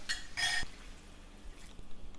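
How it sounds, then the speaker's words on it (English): Water splashes into a pot of chicken and potato curry in two short bursts, with a faint clink of cookware after, close and fairly quiet. "So we could add some water"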